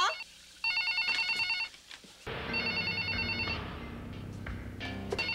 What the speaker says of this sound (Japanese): 起きて電話出て。